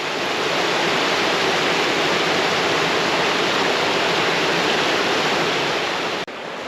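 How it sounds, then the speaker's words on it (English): A wide river rushes past on a warm-weather walk, a loud, dense and unbroken roar of flowing water heard close by with no talking, until it cuts off briefly near the end. "This is a wide river to cross."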